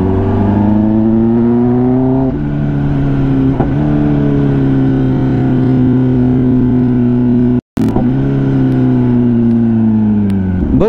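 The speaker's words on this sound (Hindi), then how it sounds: "गियर चेंज करते से इतना प्यारा पॉप एंड क्रैकल का साउंड करती है" A loud Kawasaki ZX10R motorcycle revs hard close by, the engine note dipping at each gear change with pops and crackles from the exhaust, and a brief cut partway through.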